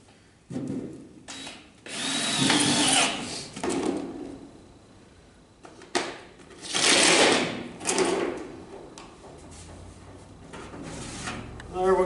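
Roofing screws are driven into sheet metal for a homemade camera stand, several loud whirring bursts from a screw gun each lasting a second or two, close by, with pauses and some handling noise between them.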